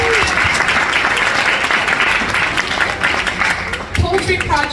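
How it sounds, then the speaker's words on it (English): A crowd at a high school FFA banquet applauds steadily for several seconds, dense clapping filling the room, with a voice briefly starting to speak near the end. "We can still give Jada a round of applause."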